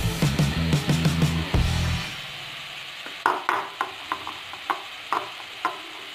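Banana and coconut frying in ghee in a pan give a soft sizzle, with steady, rhythmic clicks of a utensil stirring against the pan. Louder tonal sound sits underneath at the start before the stirring clicks continue alone.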